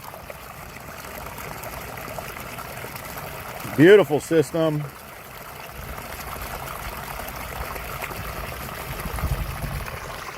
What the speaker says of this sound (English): Man, it's moving a lot of water.